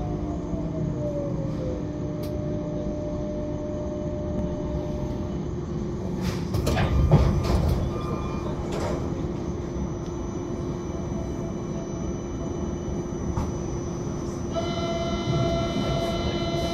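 A Lille Metro line 2 train runs between stations, heard from inside as a steady rumbling drone with a whining tone, a brief louder clatter midway and a rising electric hum near the end.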